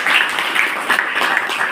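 An audience at a career guidance camp claps together, a close, loud, even patter of many hands without pause.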